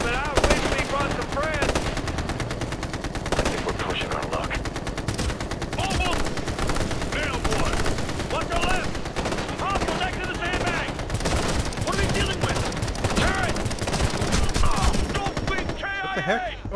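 Automated machine gun turrets fire constant bursts of rapid gunfire in Ghost Recon Future Soldier, a dense, continuous clatter of shots that lasts the whole stretch with little pause.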